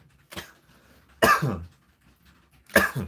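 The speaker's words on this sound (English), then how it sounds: "I got a coughing fit suddenly" Three separate coughing bursts, close and loud, the first lighter and the last two harsh and heavy, with quiet pauses between them.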